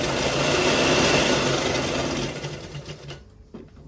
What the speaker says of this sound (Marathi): एक साईडने मी आता या गोधडीला टीप मारून घेत आहे.